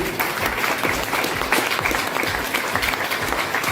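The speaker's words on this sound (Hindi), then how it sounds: "मैं एक बार जोरदार तालियां चाहूंगा" An audience at a doctor's product presentation gives a steady burst of enthusiastic clapping, a dense, even wash of many hands heard from within the crowd.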